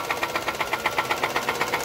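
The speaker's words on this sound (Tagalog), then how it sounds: "Katok na ang makina." A Nissan Sunny engine due for overhaul knocks in a steady, fast metallic rhythm, a clear repeating tick over a continuous running drone, close and loud with no one talking.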